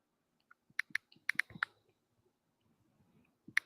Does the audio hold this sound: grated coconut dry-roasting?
no